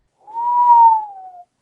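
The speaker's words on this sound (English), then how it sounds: "With a prolonged whistle." A single prolonged human whistle sits on one steady tone, rising briefly and then sliding slightly lower as it fades, clear and close against silence.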